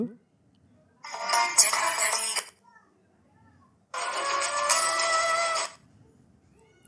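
A trending Kannada ringtone plays from a website in two separate bursts of bright, full melody, with a short silence between them.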